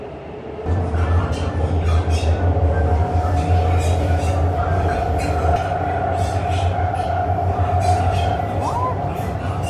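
Steady low rumble of a subway train in motion in Kunming, China, with rhythmic rattling and a faint wheel squeal near the end; a few muffled voices sit underneath.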